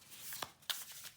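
A tarot deck, a Lo Scarabeo set, riffled in a quick shuffle: soft papery flutters with two sharper card snaps close by, quiet, with no talking.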